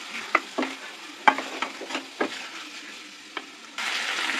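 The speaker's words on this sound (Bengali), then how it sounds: "এটাকে ভালো করে কষিয়ে নেব।" Chicken with garam masala stir-fried in a pan, a series of distinct spatula scrapes and clacks over a soft sizzle, ending in a sudden louder burst of frying hiss, no voices.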